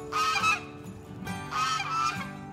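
Geese honking loudly and close by in two harsh bursts of overlapping calls, separated by a brief quieter gap, with no talking.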